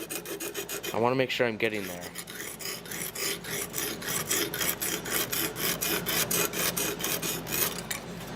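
A hand file rasps along a blade edge in quick, regular back-and-forth strokes, close and fairly quiet, with a brief scrub near the start and no talking.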